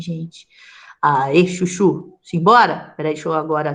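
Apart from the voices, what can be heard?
No distinct noise like a dog, phone or traffic.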